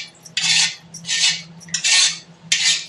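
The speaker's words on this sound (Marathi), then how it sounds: "तर मी आता डायरेक्ट या कढईमध्येच काढून घेते" A utensil scrapes leftover milk out of a container into a kadai, making four distinct, close metallic scraping strokes in a regular rhythm against a faint low hum.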